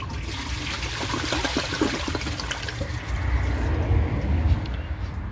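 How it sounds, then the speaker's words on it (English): A 2013 Eago toilet, rated at $700 and fed by a constant water supply, flushes in a steady rushing wash of water that holds strong for about five seconds and swells slightly toward the end. "So let's give this a flush and see how it does on tests."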